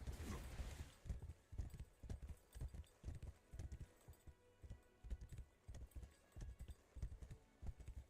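Horse hooves clip-clopping in the Wayfinder video game, a steady rhythmic trot of soft thuds repeating throughout, fairly quiet with no talk over it.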